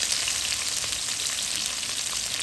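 Chopped onion fries in hot oil in a home kitchen pan, a dense, steady, close hiss and crackle that holds evenly throughout with no talk.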